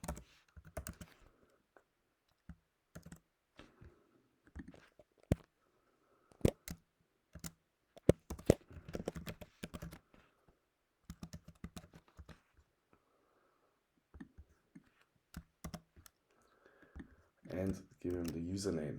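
An email being typed on a computer keyboard, with scattered bursts of crisp key clicks broken by short silent gaps, close and fairly quiet, ending in a denser flurry of taps.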